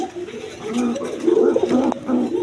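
A pair of large gorra pigeons coos in low, rolling murmurs, close and fairly loud, with a faint sharp click near the end.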